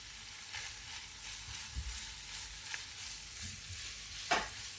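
Raisins fry in a pan for Afghani Kabuli pulao with lamb shanks, a quiet steady sizzle with soft stirring scrapes and a few clinks, the loudest near the end.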